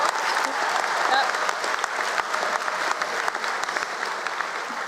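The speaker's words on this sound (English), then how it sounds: "You can applaud." A high school graduation crowd applauds, a broad steady wash of many hands clapping that carries at an even level throughout, with faint voices mixed in.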